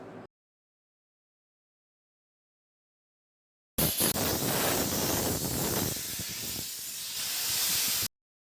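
Zinc metallization spraying on long rail panels, applied as two coats of 75 microns each: a brief noise, a few seconds of silence, then a loud, steady, close hiss of spray lasting about four seconds before cutting off.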